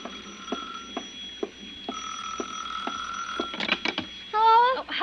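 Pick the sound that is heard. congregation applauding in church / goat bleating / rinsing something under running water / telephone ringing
telephone ringing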